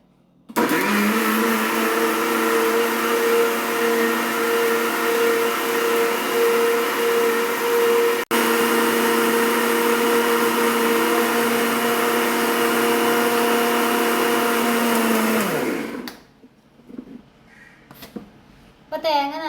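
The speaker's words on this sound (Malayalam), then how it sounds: "ഇത് മിക്സിയുടെ ജാറിലേക്ക് ഇട്ട് കൊടുക്കുകയാണ്." An electric mixer grinder runs loudly with coconut and cumin in its jar, a steady high motor whine for about fifteen seconds before winding down, followed by faint clatter and brief talk.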